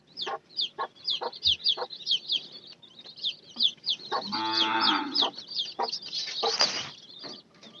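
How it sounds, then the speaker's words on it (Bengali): Chickens and chicks on a poultry farm cluck and peep in quick repeated calls nearby, while a cow lets out a long low moo partway through. "এই যে দেখাই মুরগি বাচ্চাগুলা ওইখানে"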